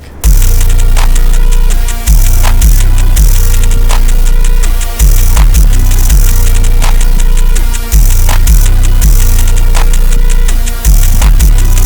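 A loud, heavily distorted beat with punchy booming kicks and metallic, ring-modulated drum hits clipped on the master, repeating in a steady loop, no vocals.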